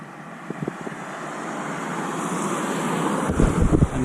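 Wind blowing outdoors on the Somerset Levels: a loud, close rush buffeting the microphone that swells and grows stronger toward the end, with a few low thumps and no voices.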